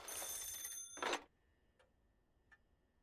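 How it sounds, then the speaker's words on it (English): In the video game Paranormasight, a telephone rings in a bright, rapid trill for about a second, followed by a couple of faint, sharp clicks in near silence. "Oh, the phone."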